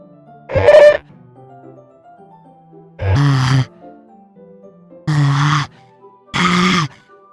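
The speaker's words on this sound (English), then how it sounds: "It sounds like breathing. Sharply inhale, like someone is sucking the air through their teeth." In the Doki Doki Literature Club video game, someone sucks air sharply through their teeth in four loud, strained breaths, separated by pauses of a second or two, with a faint synth tone underneath.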